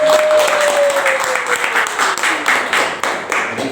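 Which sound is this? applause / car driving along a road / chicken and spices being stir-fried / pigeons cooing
applause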